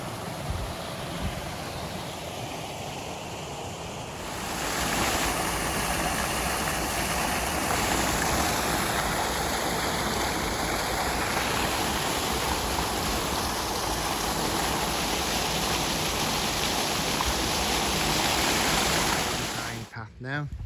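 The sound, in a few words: river flowing on the Pennine Way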